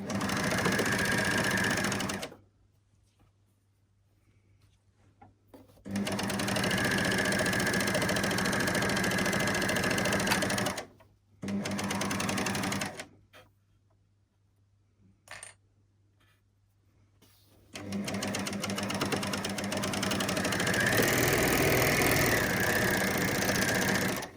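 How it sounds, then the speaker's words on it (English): A sewing machine runs in long steady bursts, stitching the top seam of a fabric bottle gift bag with a ribbon caught in it, stopping and starting several times with quiet pauses between runs. "So that's the top seam of the bottle bag stitched, and I've caught the ribbon nice and securely into that seam."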